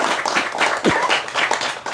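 An audience applauds the author at a book presentation, a lively run of many hands clapping at close range, with individual claps audible in a brisk, uneven rhythm.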